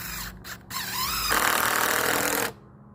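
A power drill drives a regular decking screw to pin down a greenhouse cover, a loud steady whirring buzz lasting about a second after a few short bursts, then stopping abruptly.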